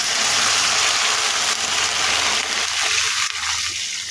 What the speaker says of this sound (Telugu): దీంట్లో వాటర్ పోసేసుకోవాలి.